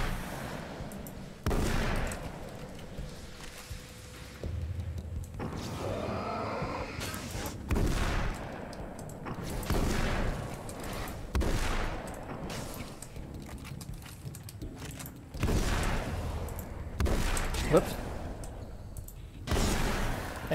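Gunfire and a flare in the video game Alan Wake's American Nightmare, a string of sharp booming shots at irregular intervals over a constant rumbling game backdrop, with a brighter whooshing burst partway through.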